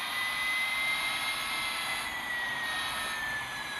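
A Lotus Evija electric hypercar speeds along in a racing video game, giving a steady high-pitched electric whine over a broad rushing hiss, close and continuous with no talking.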